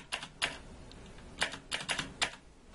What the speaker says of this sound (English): this keyboard is really loud